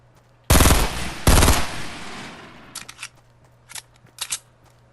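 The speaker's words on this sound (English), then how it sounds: "So let's waste some ammo here. Okay, hit reload." Gunfire in the video game Fortnite on PS4: two loud bursts of automatic fire, followed by a series of short mechanical clicks and clacks from reloading, with no talk.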